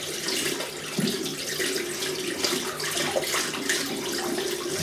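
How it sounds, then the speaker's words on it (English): Tap water runs steadily into a bathroom sink to wet a shaving brush, a continuous close splashing stream with no talk. "I'm gonna wet the brush"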